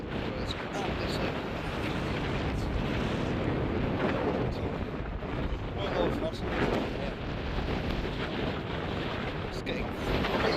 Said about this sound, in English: It's getting quite windy, jeez.